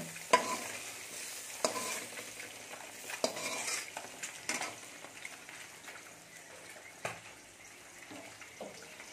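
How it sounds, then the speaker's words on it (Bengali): Rohu fish fries in oil with eggplant and drumstick stems, giving a soft continuous sizzle broken by scattered sharp pops and crackles, fairly faint and with occasional utensil clinks, no speech. "বেগুন আর ডাঁটা মাছটা ফাটছে ফট ফট করে"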